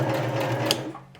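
A Singer M1150, M1500 or MX60 sewing machine stitches forward in a quick, even mechanical rattle close by, then slows and stops.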